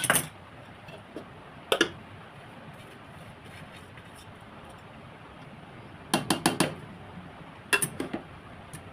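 Egg and rice mixed in a pan for Chinese chicken egg fried rice, with a low sizzle and occasional sharp clusters of metal spatula clinks against the pan, quiet between the bursts.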